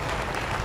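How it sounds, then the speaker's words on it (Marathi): Loud, dense clapping from an event audience honouring a speaker, a continuous burst of many hands with no talk over it. "सरांसाठी एकदा जोरदार टाळ्या झाल्या पाहिजेत"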